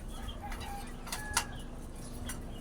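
Chickens clucking faintly at a distance over a steady outdoor background hum, with a few short calls scattered through.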